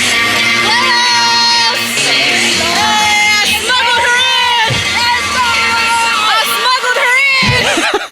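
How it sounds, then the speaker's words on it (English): A loud arena crowd of Knicks fans booing and shouting together at a basketball game, a dense, sustained roar close to the recorder throughout. "A whole bunch of Knicks fans in this arena booing"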